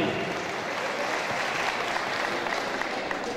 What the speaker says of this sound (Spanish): un aplauso para todas ellas y para ti